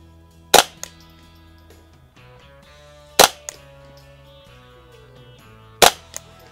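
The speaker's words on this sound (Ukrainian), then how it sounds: "П'ять пострілів на 50 метрів." Three sharp, loud shots from a Tactical Solutions survival rifle at a 50-metre range, spaced a few seconds apart, each with a brief echo trailing after, over a quiet background.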